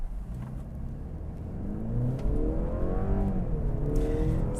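A 2022 Mercedes-Benz C300 AMG Line with a 248 hp engine accelerates on the road, its engine note rising steadily through the gears, loud and close, with no one talking.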